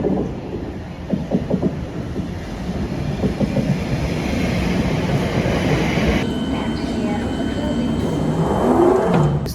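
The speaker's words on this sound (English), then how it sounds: "As soon as you get on the underground train" London Underground train in motion, heard from inside a carriage: a loud, continuous rumble with rhythmic clatter from the rails and a rising roar near the end, with no clear talk.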